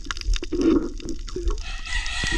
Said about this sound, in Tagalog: Ay, hamal na manok nito at naandyan na naman.